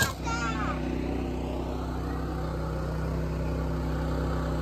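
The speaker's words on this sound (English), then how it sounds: "Both air conditioners are running. And so is the generator." A Champion 3400 watt inverter generator running on propane while powering two air conditioners: a steady, even engine hum and drone throughout, with a brief faint voice-like sound at the start.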